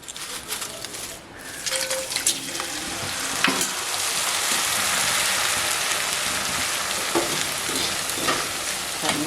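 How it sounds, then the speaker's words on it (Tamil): Vadagam, sun-dried Tamil fritters, fry in hot oil with a steady, dense sizzle and crackle, close and fairly loud throughout, with a few sharper pops and stirring scrapes and no talking. "இப்போ வடவத்தை பொறிச்சு எடுத்துக்கலாம்"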